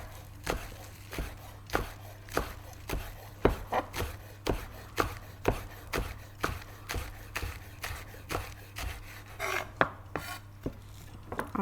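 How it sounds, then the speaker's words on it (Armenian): Green onions are chopped finely with a knife on a board, a steady run of quick, close taps and knocks for over ten seconds, with no voices. "Մանր կտրատում ենք կանաչ"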